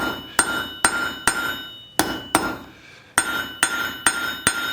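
Hot steel struck with a hammer over the square edge of an anvil while bending tong jaws, ringing in clear, loud, evenly spaced blows in short bursts, each metallic clang followed by a brief decaying ring.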